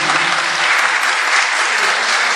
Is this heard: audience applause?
yes